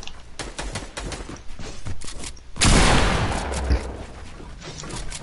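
Gunshots in a Fortnite match: a string of sharp cracks followed by a loud heavy blast with a rumbling tail, then quieter shots, with faint voices in the background.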